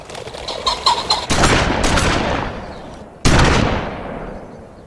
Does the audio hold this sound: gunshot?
yes